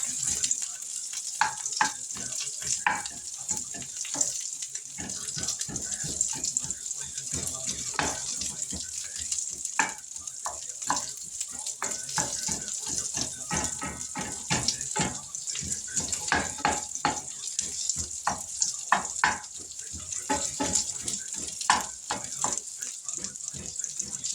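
Salisbury steak with onions frying in a pan, a steady close sizzle and spatter crackling continuously under occasional quiet movement.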